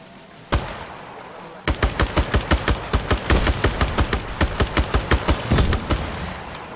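Rapid gunfire in the open-world action game Just Cause 3, a loud close burst of evenly spaced shots rattling off in a steady rhythm after one isolated shot, with no talking over it.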